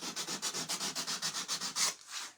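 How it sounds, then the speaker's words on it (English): A Gator detail sander works over a wooden pumpkin, giving a rapid, regular rubbing rasp of about a dozen even back-and-forth strokes, close and clear, ending in one louder stroke and a softer trailing rub. "overall, I love my Gator sander. It saves my fingernails."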